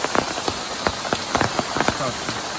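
Rain falling in a Konkan village, a steady broadband patter of drops on surfaces with scattered louder nearby drips, continuous throughout with no voices.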